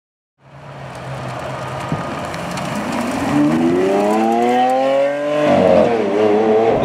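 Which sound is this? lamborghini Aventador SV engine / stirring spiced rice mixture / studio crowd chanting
lamborghini Aventador SV engine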